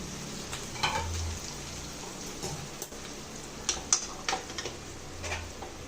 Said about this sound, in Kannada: ಚೆನ್ನಾಗಿ ಇವಾಗ ಫ್ರೈ ಮಾಡ್ಕೊಳ್ಳೋಣ